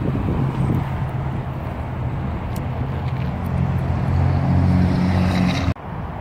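A Peterbilt dump truck with an all-aluminum body idles with a steady low diesel rumble, loud and close, holding even for about six seconds before cutting off abruptly near the end.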